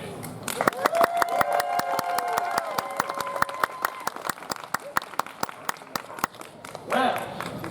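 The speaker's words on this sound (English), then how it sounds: "that applause was weak!" Scattered, thin applause rises from an audience at a Renaissance faire's Queen's Court stage show, individual claps standing out sharply over a sustained musical tone, with a brief voice near the end.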